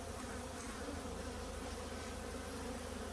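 A continuous close drone of honeybees at a divided beehive colony, even and unbroken throughout.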